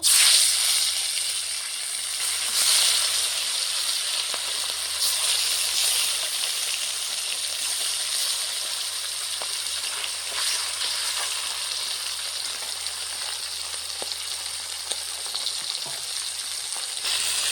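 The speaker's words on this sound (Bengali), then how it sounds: "এখন মাছের মুড়োগুলো ভেজে নেব।" Steady, loud sizzling of fish heads (pabda) frying in hot oil, with bright crackling spatters and occasional soft clinks throughout, no talking.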